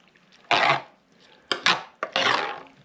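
Breakfast casserole ingredients being stirred together in a pan, giving three scraping, rustling bursts of mixing, close and fairly loud, with short pauses between them and no talking.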